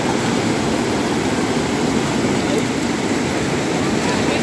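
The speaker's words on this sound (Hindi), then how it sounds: "पानी की आवाज़ आप लोगों को आ रही होगी, it is very fast and very deep" Fast, deep river water rushes at Balakot in a dense, continuous roar, loud and close throughout with no breaks.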